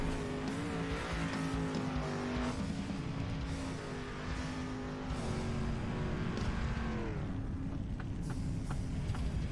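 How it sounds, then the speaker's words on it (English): Race car engines in the iRacing video game roar steadily and loudly, their pitch rising and falling as the cars speed around a track during practice, with a faint tire squeal. "Just let's do the sight to sound of these cars flying around here."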